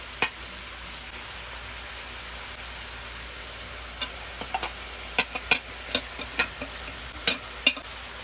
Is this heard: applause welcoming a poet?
no